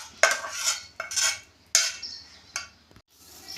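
A metal spoon scrapes and clanks against a pot as cooked dal is mixed into rice for ven pongal, four or five distinct strokes with brief pauses between them, close and fairly loud.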